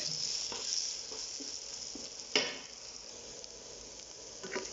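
Golden sultanas frying in hot oil give a steady, soft sizzle broken by scattered small pops and one sharper crackle near the middle, fairly quiet and close.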